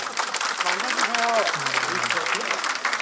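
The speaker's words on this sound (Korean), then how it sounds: "뜨거운 축하의 박수를 부탁드리겠습니다." Audience applause at a Democratic Party floor leader election meeting as candidates are called forward, steady clapping throughout with voices audible through it.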